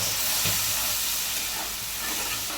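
Spice paste sizzles and hisses steadily in a hot pan just after a splash of water is added, a bright continuous frying hiss close up with no voices.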